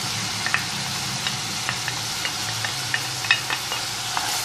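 Minced meat with peppers, garlic and onions sautés in a pan, a steady close sizzle broken by frequent small pops and crackles and occasional stirring scrapes.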